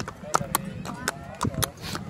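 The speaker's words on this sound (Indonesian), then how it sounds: "Lagi naik kuda." Pony hooves clip-clop at a neighborhood playground during a ride, a light, uneven run of sharp taps over about two seconds, fairly close, with faint background chatter.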